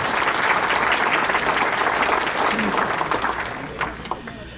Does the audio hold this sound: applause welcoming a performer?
yes